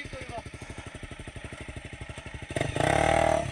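A motocross bike engine at a cross riding spot in Braszowice runs with a steady pulsing idle-like throb, then revs up loudly and roughly near the end as the throttle opens.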